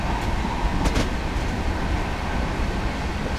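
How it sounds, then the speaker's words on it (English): Steady rumbling drone of a Class 66 diesel freight locomotive being driven in Train Simulator 2017, continuous and even with a few faint clicks and rattles, no talking. "Nice bit of train driving."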